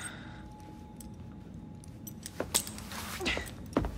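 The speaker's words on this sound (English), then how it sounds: "Now hand over your keys." Keys jangling in the Assassin's Creed Syndicate video game: a few short metallic clinks and rattles toward the end, close and fairly soft, following a quiet ambient stretch.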